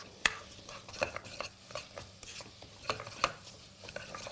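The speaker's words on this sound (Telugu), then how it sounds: "యా కొంచెం మసాలా యాడ్ చేసుకున్నాం మనం దాన్ని మళ్ళీ కలుపుకుందాం" Masala for a Rayalseema mutton curry being mixed in a pan: a spoon scrapes and knocks against the metal in irregular strokes, fairly quiet and close, with a faint sizzle beneath.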